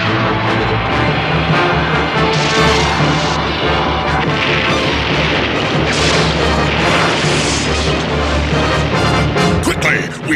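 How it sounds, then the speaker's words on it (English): Cartoon torpedo fired and exploding, a loud, continuous crashing roar of blasts and booms layered with dramatic score, dense throughout with a final sharp burst near the end. "Fire torpedo!"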